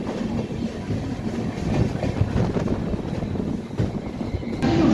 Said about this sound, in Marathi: ठाणे रेल्वे स्टेशनवरून आपली मांडवी एक्सप्रेस निघालेली आहे